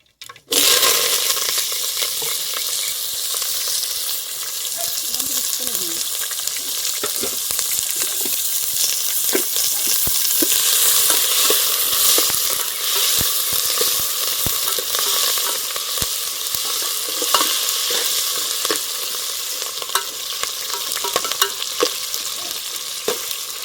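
Chopped onion, tomato, green chillies and curry leaves fry in oil in an outdoor kitchen, producing a loud, continuous sizzle with scattered sharp crackles and spatters throughout.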